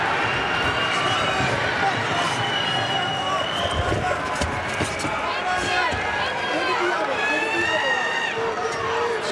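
A loud MMA crowd at Bellator 289 roars and screams continuously during a close Stots vs. Sabatello fight, a dense wall of cheering with commentary voices running over it throughout.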